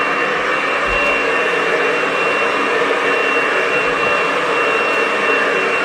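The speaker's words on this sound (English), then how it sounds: "then I go in with my blow dryer once more" A hair dryer blows in a steady, loud whoosh that runs unbroken from start to finish, with no voices over it.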